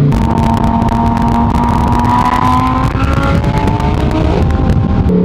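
A rear-wheel-drive Lamborghini Huracán Tecnica with almost 640 horsepower cruises with its engine droning steadily up close, a gradually rising tone riding over constant road and wind noise.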